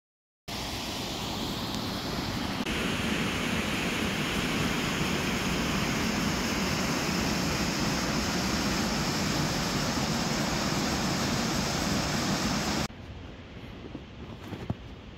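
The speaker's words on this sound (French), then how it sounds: "On a vu la cascade" A forest waterfall roars as a dense, steady rush of falling water, loud and close, holding unchanged for several seconds before cutting away to quieter outdoor ambience.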